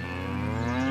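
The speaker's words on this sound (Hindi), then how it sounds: "गौएं रंभा रही थी" A cow moos in a single long, loud, close bellow that rises slightly in pitch and holds for the whole moment, with no talking.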